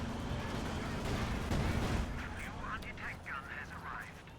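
Raketenwerfer anti-tank guns fire in a World War II strategy game, with heavy booming artillery-like blasts and rumbling battle noise. Someone talks over the gunfire throughout.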